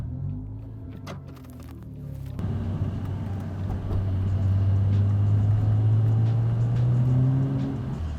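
A stock 2000 Mazda RX-7 FD sports car starts up and settles into a steady, deep engine drone heard from inside the car, swelling slightly in loudness with a faint rise near the end.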